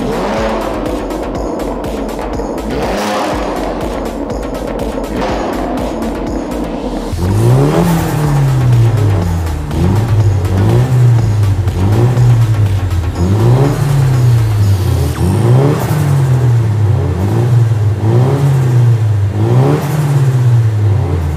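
Several drifting cars from the Tokyo Drift lineup, including a Nissan 350Z, in the game Car Parking Multiplayer at an underground parking meet: loud engines rev repeatedly in rising and falling waves, with tire squeal, continuous and close.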